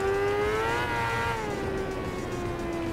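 A 2001 Suzuki GS500 motorcycle engine in the racing game Tourist Trophy hums steadily with a tonal whine that rises slightly and then eases off, continuous and fairly close, with no talking.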